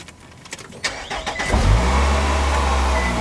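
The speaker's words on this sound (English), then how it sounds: "So we're putting the car in gear, taking my foot off the gas, and I'm going to give it a little bit of gas." Nissan Altima engine catches and settles into a steady, loud running hum after a few sharp clicks and knocks, with the car put in gear during a parking hand brake adjustment test.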